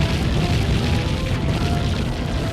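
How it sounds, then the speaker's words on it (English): Continuous rumbling explosions from the N64 shooter Body Harvest on its final alien comet level, a dense, loud, chunky barrage of booms rolling without pause. "Oh yeah, especially N64 explosions."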